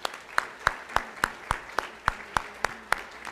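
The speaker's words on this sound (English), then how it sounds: "Give him a hand clap." A church congregation at a Sunday morning service claps in a steady unison rhythm, about three sharp beats per second, ringing through the room with no talking over it.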